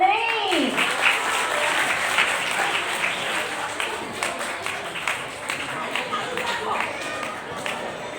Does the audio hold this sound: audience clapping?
yes